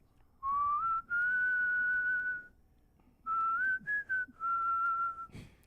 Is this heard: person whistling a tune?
yes